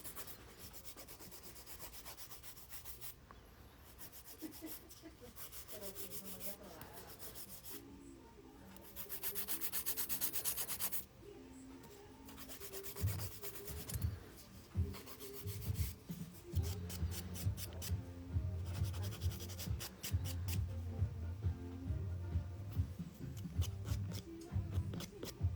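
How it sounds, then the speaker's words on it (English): A natural fingernail is filed with a fine 240-grit nail file, making steady, close scratchy rubbing strokes in a continuous rhythm that grow louder and denser toward the end. "You don't need a sharp, coarse file for the natural nail"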